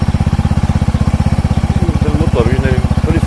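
A Ducati motorcycle engine, warm and at the start, runs steadily with a fast, even low-pitched pulsing throb and some mechanical clatter. It is close and loud throughout, with a voice speaking briefly near the end.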